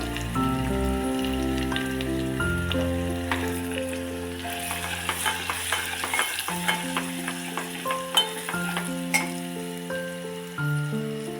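Green chilli-garlic paste and turmeric sizzle in a pan for dahi kadhi, a continuous soft frying hiss with scattered stirring clicks, running under steady melodic background music.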